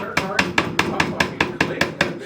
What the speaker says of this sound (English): Will, that's the wrong side of the fucking hammer, dude